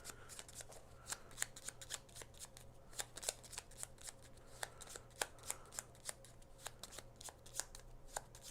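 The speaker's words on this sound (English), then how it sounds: "And then we're going to shuffle." Cards for the Paladins of the West Kingdom board game are shuffled by hand, a long run of quick papery riffles and snaps close up, with no talk.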